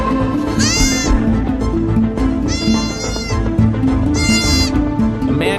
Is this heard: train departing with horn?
no